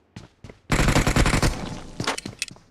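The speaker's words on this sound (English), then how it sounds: "Zuki's hearing gunshots, hearing things hit the walls" Gunfire in PUBG Mobile: two faint single shots, then a loud rapid burst of automatic fire followed by scattered sharper shots and impacts, no voices.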